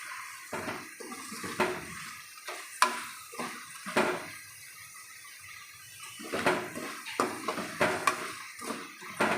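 Onion pakoda deep-frying in hot oil street-style, with a soft steady sizzle under repeated scraping and stirring clinks of a utensil against the pan, close by.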